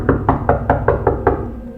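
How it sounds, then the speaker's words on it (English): Knocks on a big black door at the top of stone steps, seven evenly spaced raps in quick succession, loud and close with no voices. "together they knocked"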